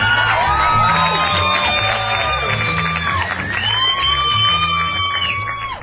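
Comedy club audience at the Laff Stop cheering, whooping and clapping loudly and steadily, a dense crowd roar with shouted voices over a thumping background beat.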